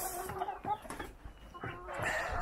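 Several chickens cluck and squawk in short, irregular bursts nearby in a coop, with soft rustling between calls.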